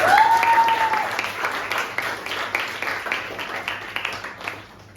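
An audience in a classroom presentation applauds steadily for several seconds, the dense clapping close and fairly loud, then tapering off toward the end.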